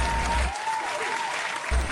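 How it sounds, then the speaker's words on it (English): Audience applause for two senators brought on stage during a comedy news show, a steady loud wash of clapping from a crowd filling the whole moment. "Can we get another round of applause?"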